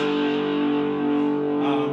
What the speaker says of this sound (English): I've got some pretty good distortion going on here.